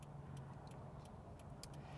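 Steady cabin road noise inside a 2018 Subaru BRZ tS sports coupe while driving, a constant low rumble and tire roar with a faint hum, plus a few light ticks and clicks above it, no voices.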